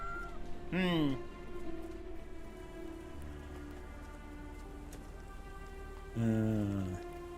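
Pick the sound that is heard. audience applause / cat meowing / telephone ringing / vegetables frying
cat meowing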